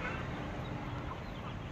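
Native country chickens cluck steadily in a hot summer yard, their calls blended into a dense, continuous wash of outdoor noise at moderate level.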